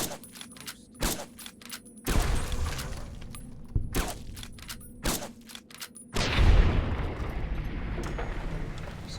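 Gunfire in Fallout New Vegas: sharp, separate shots spaced about a second apart, then a denser, rumbling burst near the end, loud and close with a faint background hum and no talk.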